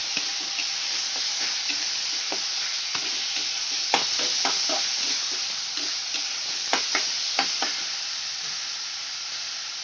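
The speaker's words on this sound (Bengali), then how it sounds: "টমেটোটা দিয়ে আমি ভালো করে কষিয়ে নেব" Chopped tomatoes fry in a pan under steady stirring, a hissing sizzle broken by repeated sharp spatula scrapes and taps, heard up close without talk.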